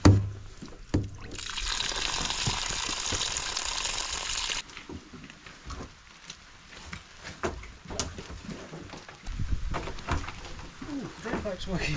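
Rainwater from a rain-catchment barrel runs out through a drain pipe in a rushing burst of water, then fades to quieter trickling, with a person talking over it outdoors.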